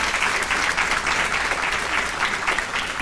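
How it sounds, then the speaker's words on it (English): Audience applause at a police graduation ceremony, steady clapping from a crowd continuing evenly throughout. "So he deserves a round of applause."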